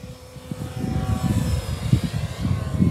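A Horizon Hobby Timber X V2 RC airplane on a 4S battery flies overhead, its electric motor and propeller giving a steady whine that swells and fades as it passes, with no talk.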